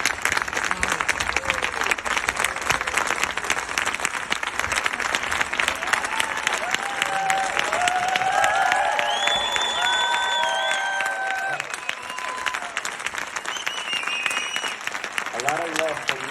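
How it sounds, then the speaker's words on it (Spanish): Audience applause for a guest speaker at a sports nutrition talk, a steady wash of many hands clapping throughout, with cheering and voices rising over it. "Un fuerte aplauso para el doctor Nathan Lewis"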